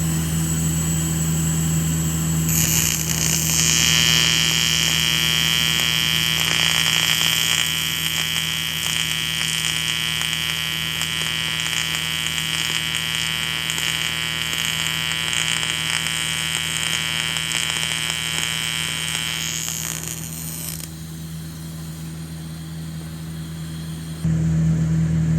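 A TIG welder runs a bead on aluminum after its tungsten electrode was changed, giving a steady, loud electric buzz that starts abruptly, holds for about eighteen seconds, then cuts off, with no talking.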